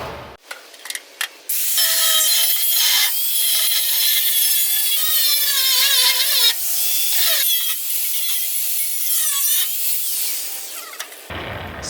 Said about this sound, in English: Let's see if we can cut this little bracket out and still use it.